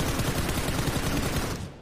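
A dense burst of rapid gunfire from the PUBG Mobile game rattles continuously, fairly loud, then fades out at the very end.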